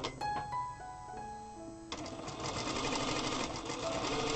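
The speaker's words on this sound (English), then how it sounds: "Now I will sew the seam between the legs." A Zoje industrial sewing machine stitches a seam on a small doll's sleeper, a fast buzzing run of needle strokes preceded by a few short starts and whirs, close and clear.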